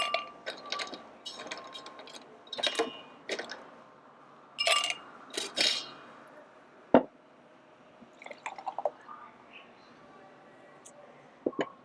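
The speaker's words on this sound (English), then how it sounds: "Going to fill my glass up with some ice." Ice cubes clatter into a glass for a garden cocktail, several irregular bursts of clinking and rattling over about twelve seconds, close and fairly loud, with no talk.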